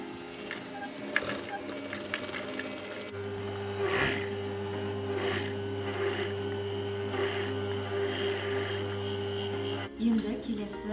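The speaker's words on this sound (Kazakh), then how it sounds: "Енді бұларды тігіп бастайық." Sewing machine stitching denim jeans pieces, a steady motorized hum with rhythmic needle clatter running continuously at moderate level, with a voice speaking in places.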